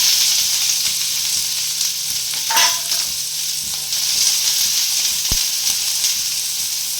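Chopped small onion sizzling in hot oil in a pan for a tempering, a steady near frying hiss with a few soft stirring scrapes and one sharp knock.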